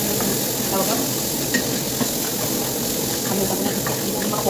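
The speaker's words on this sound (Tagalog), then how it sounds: "nilagay ko po yung butter sa kawali. And then, sunod po niyan ay ang sibuyas." Chopped onion sautéing in melted butter in a pan: a steady, soft sizzling hiss runs throughout, with a voice talking over it.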